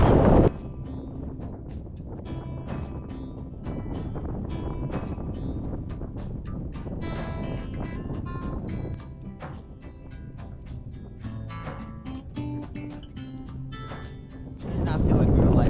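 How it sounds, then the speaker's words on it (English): Strong wind near a glacier in Iceland, roaring as steady broadband rumble and buffeting across the microphone, loud throughout and swelling at the start and end. "it's starting to get really windy though"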